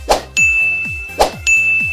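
Two bright notification bell dings, each a sharp chime followed by a sustained ringing tone, repeated in an even rhythm, loud and close with no speech.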